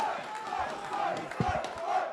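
Crowd at an esports major match cheering and roaring, a steady broad wash of voices at moderate distance with a commentator talking over it.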